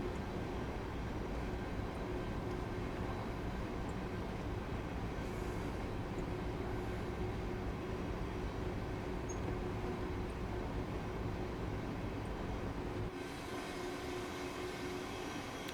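A train rolls by in the Train Sim World game with a steady broadband rumble and rail noise that holds for the whole stretch, easing off slightly near the end, with no voices.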